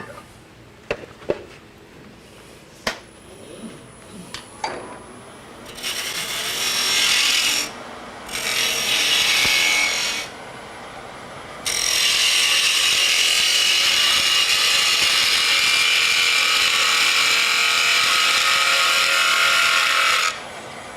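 A wood lathe turns and hollows an end-grain box, with a few light ticks followed by long, loud, steady bursts of gouge cutting that hiss and rasp, the last one sustained for nearly ten seconds.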